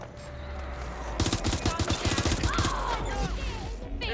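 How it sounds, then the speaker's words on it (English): Rapid automatic gunfire from the video game Watch Dogs: Legion, fired at Bloom Tower. After a brief lead-in, a dense run of close, loud shots begins, then eases off into other game noise. A voice is faintly present. "Shots fired!"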